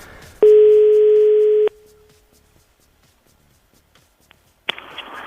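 A telephone call connecting tone during a radio phone-in show, one loud steady electronic beep lasting about a second, followed by near silence and then a burst of line noise.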